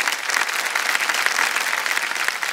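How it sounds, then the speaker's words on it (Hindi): Steady, even applause from a studio audience on the KBC game show, a dense wash of clapping at constant loudness with no speech. "हम चाहेंगे कि सब लोग तालियों के साथ इनका स्वागत करें।"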